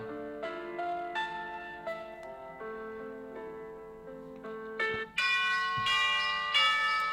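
A melodic chime of bell tones plays, struck notes ringing in a steady sequence with a brighter, louder passage near the end.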